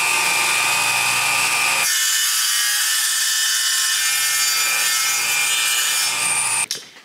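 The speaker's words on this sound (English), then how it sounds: "Show you guys the wet saw." A wet saw cutting tile indoors makes a loud, steady grinding whine. It drops briefly to a thinner hiss before the full rasping cut resumes and then cuts off near the end.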